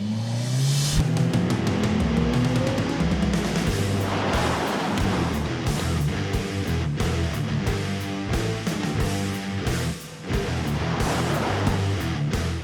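A McLaren 720S and a McLaren Senna race around a track. Their engines roar loudly and continuously, with a rising rev at the start and steady high-speed noise after it.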